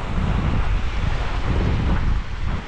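Steady, loud wind buffeting the microphone at an ocean beach where the waves are unusually small, a continuous roar with low rumbling gusts and no voices.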